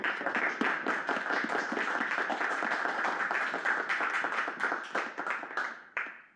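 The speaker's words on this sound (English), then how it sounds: "So can we get a nice round of applause for Ethan?" An audience applauds at the close of a game design talk, a steady crowd of claps filling the room for several seconds before tapering off at the end.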